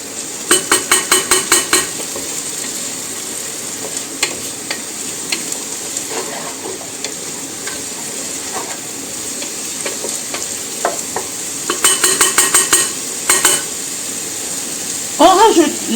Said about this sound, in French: On fait revenir tout ça